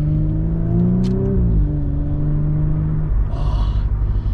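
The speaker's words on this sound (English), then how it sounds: "Oh, the engine's so torquey." Audi B9 S4 with a Unitronic Stage 1+ tune accelerating hard, a loud steady engine drone from inside the cabin rising in pitch, easing back briefly and then climbing again, with no talk over it.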